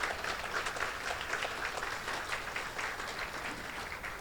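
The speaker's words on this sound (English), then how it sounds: "Please keep that applause going" Steady applause from the crowd at an annual dinner as an honoree is welcomed, a sustained even patter of many hands heard from a moderate distance, with no speech.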